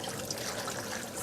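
Cold tap water runs over cooked ramen noodles as they are rinsed, a soft continuous trickling splash, close and fairly quiet.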